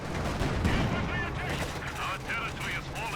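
An IL-2 aircraft strafing run in the strategy game Company of Heroes 2, a rapid burst of battle gunfire and rumbling impacts under constant excited commentary.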